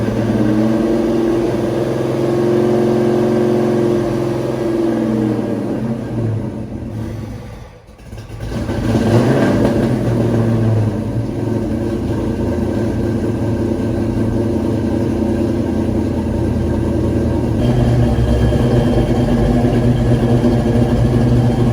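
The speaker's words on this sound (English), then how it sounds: "So I'm going to fire the car up real quick." A car with a brand new transmission is started and left idling to warm the transmission fluid, giving a steady close engine hum with a brief dip partway through before it settles back into an even idle.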